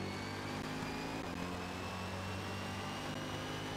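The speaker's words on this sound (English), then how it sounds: "this V6, V8 or whatever it is does sound fresh" A steady, droning V6 or V8 car engine hum in Forza Motorsport, with clear tonal harmonics at a constant pitch, loud and close, with no talk.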